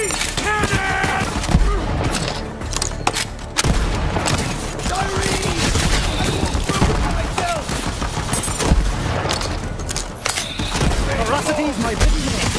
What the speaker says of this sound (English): Confetti cannon!